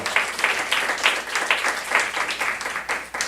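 A church congregation at a Saturday worship service claps in a steady, fairly quick rhythm, the claps close and even throughout.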